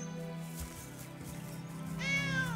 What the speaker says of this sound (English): I found an abandoned kitten.